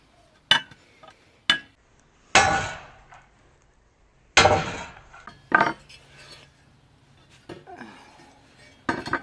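Metal tapping on the welds of a welded steel fixture to square it, heard as several sharp, ringing clangs spaced irregularly, some single hits and some quick doubles, close and loud with quiet gaps between.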